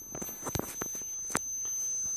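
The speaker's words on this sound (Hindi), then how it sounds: "मल्टीमीटर बजर टून ऑन हो गया" A multimeter's continuity buzzer, used to test a microwave oven door switch, holds a steady high-pitched electronic tone for the whole stretch, with a few soft clicks and handling knocks underneath.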